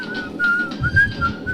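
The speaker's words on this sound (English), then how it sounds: "Yo, stop whistling." Clear, close whistling: a single sustained, slightly wavering melodic tone held through the short stretch, loud and alone with no talking.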